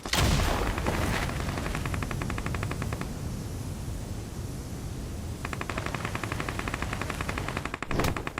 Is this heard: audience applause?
no